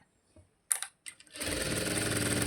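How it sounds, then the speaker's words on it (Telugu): After a few soft clicks and handling sounds, a sewing machine stitching a blouse starts up and runs in a fast, steady, rhythmic chatter, moderately loud and close, with no talking. "ఇలా కొంచెం కుట్టేస్తే పక్కకు జరగదు"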